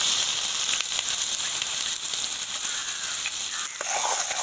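Steady, loud sizzling and crackling of chopped onions and green chillies frying in hot oil, continuous throughout with occasional sharper pops.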